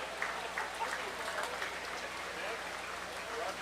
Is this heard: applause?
yes